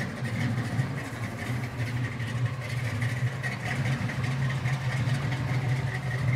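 A 1971 Chevrolet Nova V8 idles with a cammed, lopey rumble, a steady deep engine tone running close and loud throughout with no talk over it.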